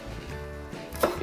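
A knife chops parsley, cilantro and dill rapidly on a cutting board, a fast, steady run of soft close knocks with no voices.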